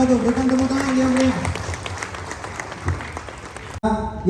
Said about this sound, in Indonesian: Berikan tepuk tangan yang beri.